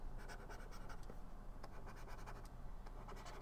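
Paper squares being cut out with scissors, giving a steady run of close, dry scratchy snips and rustles with no talk.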